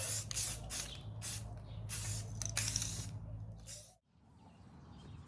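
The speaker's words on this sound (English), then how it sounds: "I love Rust-Oleum spray primer." Repeated hissing bursts of a Rust-Oleum spray primer can, several short sprays in a row followed by a pause and quieter rustling.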